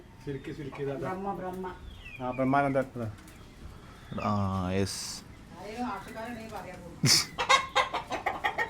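Silkie chickens cluck in short bursts beneath steady, close conversation, with a sharper squawk near the end.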